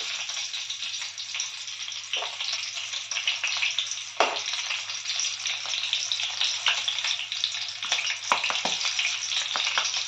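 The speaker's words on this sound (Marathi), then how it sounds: "आता आपण याच्यासोबत खाण्यासाठी हिरव्या मिरच्या तळून घेऊ." Green chillies, slit down the middle, sizzle steadily in hot oil, a dense continuous hiss with a few brief louder crackles, close and unbroken.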